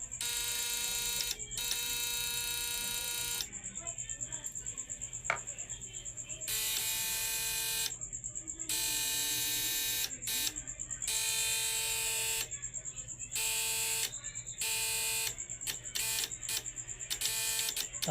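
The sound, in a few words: electronic buzzer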